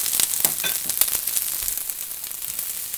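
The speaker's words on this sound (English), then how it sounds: "Now, with the onion in there, I'm going to drop the bacon in as well." Onion and bacon frying together in a pan: a steady crackling sizzle with sharper pops and spits scattered through it, heard close, with no voices.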